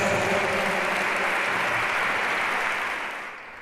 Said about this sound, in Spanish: Un fuerte aplauso para todas ellas